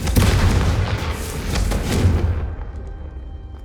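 A Confringo fire spell blast in Hogwarts Legacy: a loud, close booming burst with a roaring rumble that fades out over a few seconds.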